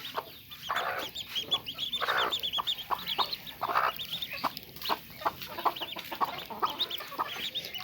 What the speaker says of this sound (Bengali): এই দেখো আমার কিউট কিউট হাঁসের বাচ্চাগুলো।